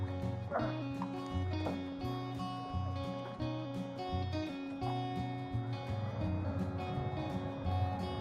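A dog barks in short yips and whimpers, fairly faint and intermittent against a steady background drone outdoors at a park, with no clear speech over it.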